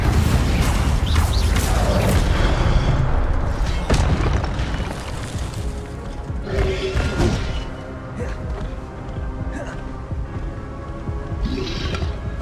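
Spells such as Incendio are cast in the Hogwarts Legacy video game, with repeated booms, thuds and crackling bursts of game effects, loud at first and then softer, under intermittent talking.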